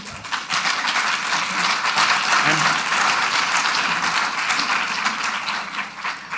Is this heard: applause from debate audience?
yes